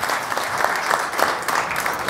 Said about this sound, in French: Je vous demande d'applaudir Laure Bourgois.